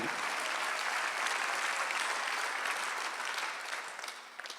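A congregation applauds during a Sunday church worship service, with dense, steady clapping that fills the room and then thins out and trails off near the end.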